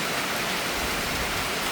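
Heavy rain pours down at a rural school, a dense, steady hiss of downpour close by with no pauses and no voices.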